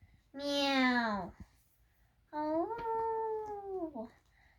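A voice imitates a cat, giving two drawn-out meows about a second apart while reading a story aloud; the first falls in pitch, the second is held steadier.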